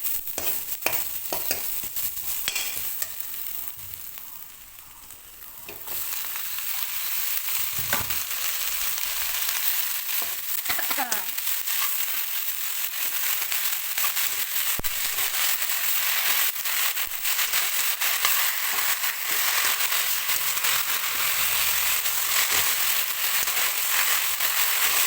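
Duck meat fries in a pan with only a little oil, giving a steady, close sizzle and crackle throughout, with occasional stirring scrapes and no talking.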